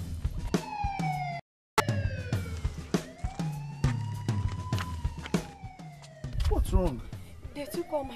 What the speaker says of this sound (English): Just when they were about to, they hit the siren and bolted.